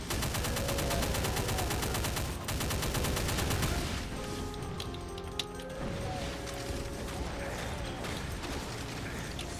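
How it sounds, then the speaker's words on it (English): Chaingunner enemies blast rapid, continuous chaingun fire in the Apophis video game map set. The fire is loud and dense for about four seconds, then gives way to scattered clanks and mechanical shots. "Man, chain gunners."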